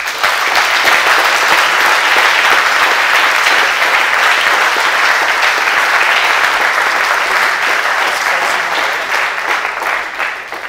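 Audience applause at a coding contest: a loud, dense, sustained burst of clapping from a full room that holds steady, then begins to thin near the end.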